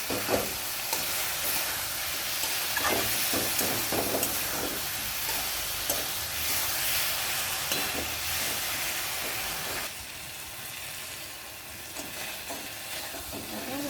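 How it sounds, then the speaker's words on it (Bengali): Spice paste with turmeric and tomato frying in a pan, a continuous loud hiss and sizzle with occasional stirring scrapes that softens slightly partway through, with no talking. "মশলাটা কষানো হয়ে গেছে"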